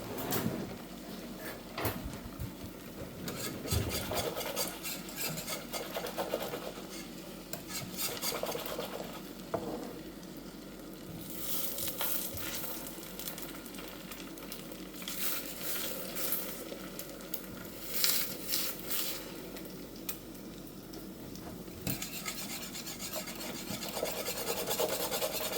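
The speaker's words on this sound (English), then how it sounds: "And keep whisking it." A whisk scrapes continuously through an egg nog mixture, giving close, busy rubbing and scratching with intermittent sharper clinks against the bowl over a long stretch.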